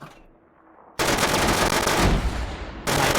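Rapid automatic gunfire from a foregrip-equipped gun in the VR shooting game H3VR, erupting as two loud sustained bursts after a quiet start, with a brief pause between them.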